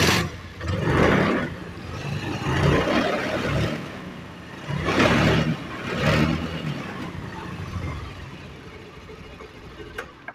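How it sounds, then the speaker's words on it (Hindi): A Honda Activa scooter with a spark and misfiring problem is started and left running, its engine giving uneven surging bursts up close over a steady idle, with no talking. "अब हम स्कूटर स्टार्ट करेंगे।"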